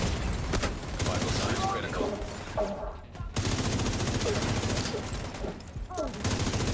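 Rapid bursts of video-game gunfire fighting off a large spawning wave of enemies, dense crackling volleys repeating close and loud, with brief gaps and someone talking over much of it.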